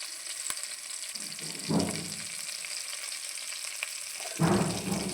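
A spice paste of tomato, coriander-cumin paste and red chilli powder fries in oil for a raw banana kofta curry, a soft continuous sizzle with two louder bursts of stirring, moderately quiet and without talk.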